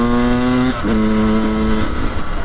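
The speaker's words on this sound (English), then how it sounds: "I can wind it either in or out until it starts revving up" Yamaha YZ125 two-stroke dirt bike with a new carburetor revving hard and close, a sharp buzzing engine note that dips briefly then climbs again in quick successive blips.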